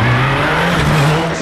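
Richard Hogg and Mark Hanna's Mitsubishi rally car roars loudly and close at speed on a forest stage of the 2013 Lark in the Park Rally, a constant engine drone with no pause.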